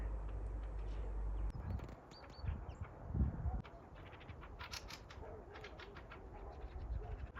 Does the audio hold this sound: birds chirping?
yes